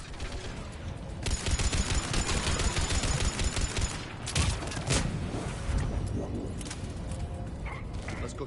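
Turret gunfire in Mass Effect Legendary Edition, a dense, loud stream of rapid automatic shots lasting several seconds, with bursts and impacts continuing afterward.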